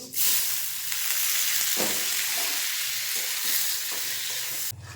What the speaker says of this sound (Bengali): আর এখানে ফোড়নটা রেডি করে নিয়েছি গোটা গরম মশলা কয়েকটা গোটা গোলমরিচও দিয়েছি একটু জিরে এর মধ্যে এবার চালটা দিয়ে দেব